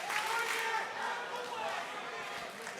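Wrestling crowd at a PCW Ultra event roaring and applauding after a moonsault, a dense, sustained wash of cheering and clapping that stays fairly even and distant.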